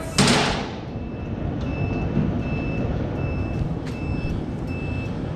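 A vehicle's electronic buzzer beeps in a steady, evenly spaced series of short tones over a low rumbling engine, after a sharp clunk at the start.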